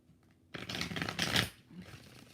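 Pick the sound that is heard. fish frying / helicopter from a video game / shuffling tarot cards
shuffling tarot cards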